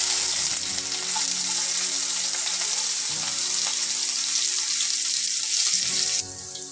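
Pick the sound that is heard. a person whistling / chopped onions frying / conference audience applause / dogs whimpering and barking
chopped onions frying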